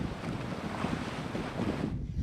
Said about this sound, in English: Well, the wind's picking up, but so is the race.